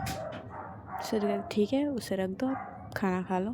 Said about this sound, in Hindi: बीच में कुत्ते की भौंकने की आवाज़ आएगी क्योंकि मेरी पड़ोसी का कुत्ता